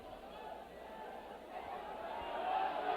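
Crowd at a boxing match: a low, restless murmur of a large audience that swells slightly over a few seconds, steady and distant with no sharp cheers.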